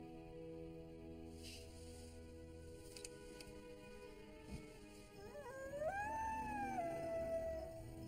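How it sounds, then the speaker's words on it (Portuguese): Sled dogs howling in a snowy film scene, a soft, distant howl rising and wavering near the end after quiet low ambience, with faint background music underneath. "devem estar muito longe pra ouvir nossos uivos"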